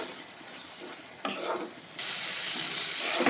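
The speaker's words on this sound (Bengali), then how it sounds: "এবার মশলাটাকে ভালো করে কষিয়ে নেব।" Spice masala sautéed with a splash of water in a pot hisses softly at first, then sizzles louder in bursts, with close stirring scrapes and a watery spatter.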